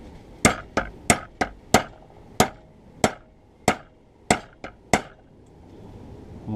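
About a dozen sharp metallic taps from a hammer knocking a washer off an Air Force pilot survival knife during restoration, struck at an uneven pace, close and crisp, with brief ringing after each hit.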